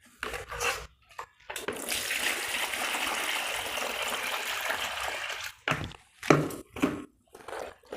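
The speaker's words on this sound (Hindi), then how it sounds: "अब ये देखिए कपड़े मैंने अच्छे तरीके से खंगाल दिया है।" School uniform clothes being rinsed in water: a long stretch of running, splashing water flanked by short sloshing and squelching bursts as the fabric is worked, close and moderately loud, without talk.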